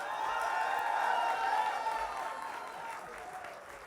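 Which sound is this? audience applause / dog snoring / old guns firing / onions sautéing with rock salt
audience applause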